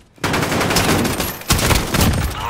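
Odin assault rifle in a video game firing sustained bursts, loud and close, with a brief gap in the middle before the rapid automatic fire resumes.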